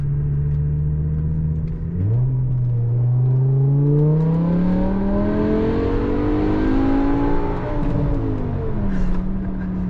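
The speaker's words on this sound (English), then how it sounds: "when I press the M button, it goes straight into its 500 horsepower Sport version, and then it literally all comes alive" BMW E60 M5 V10 in 500-horsepower sport mode revving hard, pitch rising smoothly through the gears with a brief shift dip, loud and close inside the car.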